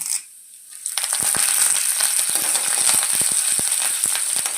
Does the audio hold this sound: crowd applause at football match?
no